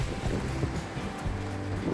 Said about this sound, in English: It's windy, cold.